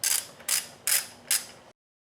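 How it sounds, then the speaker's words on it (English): A ratchet wrench drives bolts into the transmission of a Focus ST during a limited-slip differential install, four quick bursts of rapid clicking in an even rhythm, close and crisp, ending in silence. "I can install all the bolts on this side of the transmission."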